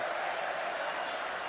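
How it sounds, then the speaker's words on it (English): A wrestling arena crowd cheers for The Undertaker in a 2013 match against Roman Reigns, a dense, sustained roar of many voices filling the whole moment without pause. "They're cheering the legend."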